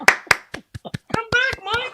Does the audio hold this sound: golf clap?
yes